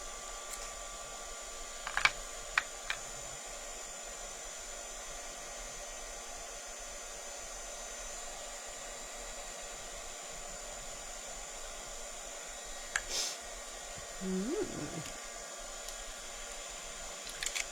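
A heat gun is left running on a craft table, giving a steady even blowing whir throughout, with a few faint clicks and taps over it.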